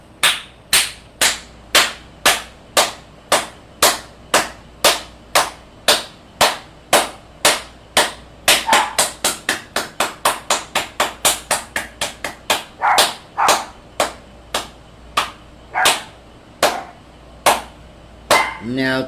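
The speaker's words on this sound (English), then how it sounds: "So start clapping." A group claps hands in a steady, even rhythm during a spiritual meditation session, a long run of loud, sharp claps that quicken briefly in the middle and then slow again, close by with no talk over them.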